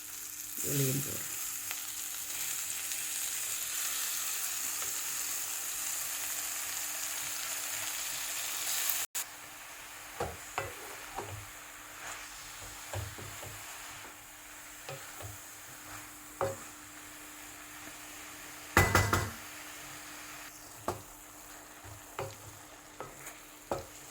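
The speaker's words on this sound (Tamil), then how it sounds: "பாலக்கு ரொம்ப நேரம் ஒன்றும் வதக்க வேண்டாம், இவ்வளோ போதும்" Spinach and coriander leaves sautéing in a pan, a soft low sizzle with occasional spoon scrapes and stirring knocks, faint and close.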